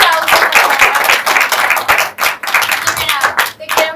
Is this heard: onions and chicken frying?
no